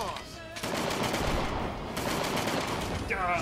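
Rapid automatic gunfire in the video game Persona 5 Strikers, a dense continuous burst of shots with short gaps, and brief voices at the start and end.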